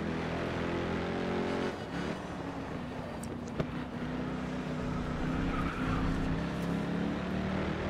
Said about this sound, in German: Aber wie diese Autos immer schlingern, wenn man einmal kurz anlenkt, ne?